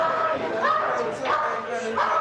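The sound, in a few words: dog barking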